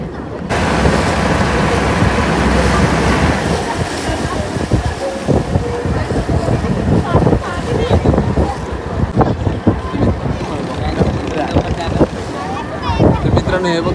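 Small sailboats race on the open sea off Korlai village, with strong wind buffeting the microphone, water sloshing and waves splashing around the boat, loud and continuous with choppy bursts.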